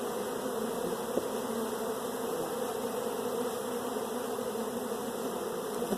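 Honey bees swarm-buzz steadily and close throughout a hive inspection in a bee yard, a dense continuous hum with no talk.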